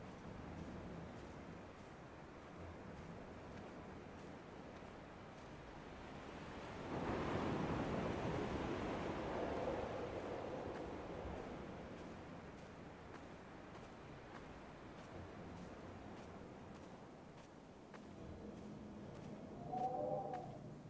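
Wind blows in the game Dear Esther, a soft, steady broadband rush that swells into a stronger gust midway, then settles back to a low, continuous whoosh with no talking.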